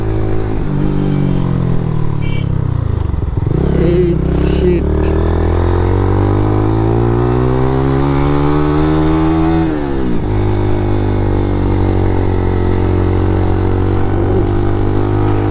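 A motorcycle labours up the steep final stretch of road to Sajek, its overheated engine droning loud and close as the revs rise and fall through gear changes, with a brief word spoken over it.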